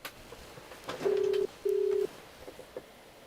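Two long steady ringback tones on an outgoing phone call, each lasting about half a second with a short gap between them, heard faintly over quiet room noise.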